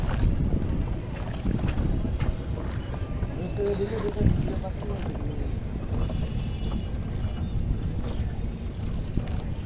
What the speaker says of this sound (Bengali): ওই যে লঞ্চ, ওই যে